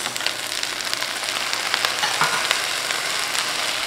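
Onions and jalapenos sizzling in a hot pan with okra: a dense, steady crackling sizzle, close and fairly loud, with scattered pops throughout.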